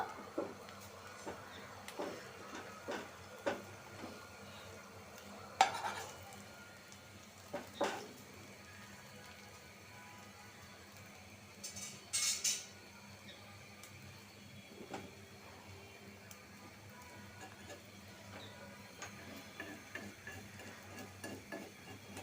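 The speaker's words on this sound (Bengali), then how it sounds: "ডিমটা আমি দুই ভাগ করে চারটা ডিম দুই ভাগ এভাবে ভাইজা নিব" Four beaten eggs seasoned with salt and a pinch of turmeric fry in a pan, a faint, steady low sizzle broken by occasional scrapes and taps of a spatula.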